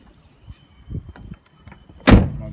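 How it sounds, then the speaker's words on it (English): A VW Transporter T6 van door with a broken hinge: small clicks and knocks, then one loud, sharp opening clunk near the end, close to the microphone. "here the hinge opens up, catches the door wing"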